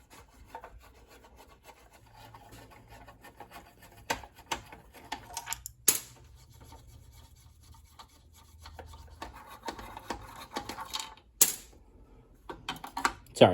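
Screws being backed out of the plastic steering column shroud on a Toyota AE86, with close scraping and rubbing of a screwdriver against plastic, small clicks and a few sharp knocks as the panel shifts, and no talking.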